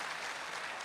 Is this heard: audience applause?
yes